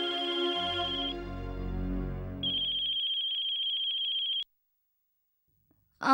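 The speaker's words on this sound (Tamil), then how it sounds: "வந்தனா ஃபோன் பண்றா." An electronic telephone ringtone in a Tamil TV serial sounds in two bursts of bright, buzzy tone, then cuts off into near silence before a short clatter at the very end.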